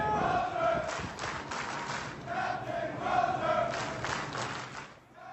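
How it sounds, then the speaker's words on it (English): A large crowd of sailors on an aircraft carrier cheers and chants rhythmically for their departing captain, a loud mass of voices with repeated chant surges and some clapping, sounding distant and roomy. "This is them cheering him on as he was leaving the ship."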